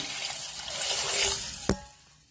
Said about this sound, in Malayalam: പാലി തേങ്ങ, ഒരു തേങ്ങയുടെ 2/2 പാലാണ് കേട്ടോ ഒഴിക്കുന്നത്.